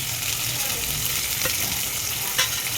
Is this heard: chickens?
no